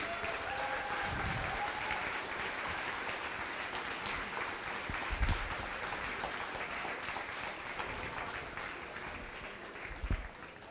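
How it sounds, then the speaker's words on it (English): Audience clapping at a robotics tournament, a sustained spread of applause from a sizable crowd, fairly distant and soft, with a few louder bumps and faint voices mixed in. "Let's give a round of applause for all our teams."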